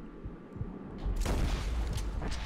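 A precision rifle shot in Red Dead Redemption 2, fired while hunting an alligator: one sharp, loud crack about a second in, followed by a rumbling echo that lingers.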